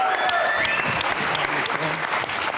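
Studio audience at a Pakistani talk show bursting into steady, full applause for a guest from Karachi, dense clapping sustained throughout with faint voices underneath.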